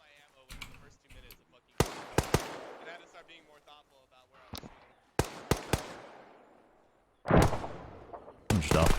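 Arma 3 combat: close gunfire cracks and sharp bursts alongside heavier RPG blasts with long rumbling tails, loud and irregular, with wind-like noise between shots.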